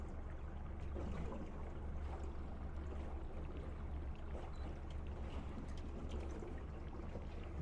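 A new Yamaha 115HP outboard motor drones low and steady on a 2002 Alumaweld 18ft Super Vee boat on the water, a constant rumble with wind and water wash over it.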